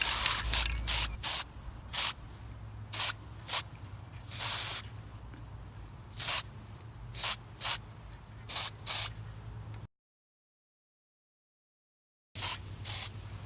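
Short hissing bursts of spray paint coating a garden pine cone copper, about a dozen quick sprays in an irregular rhythm, close and fairly quiet, with a brief gap of silence near the end.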